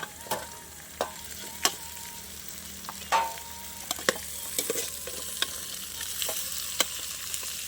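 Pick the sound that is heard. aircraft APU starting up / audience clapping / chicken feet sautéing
chicken feet sautéing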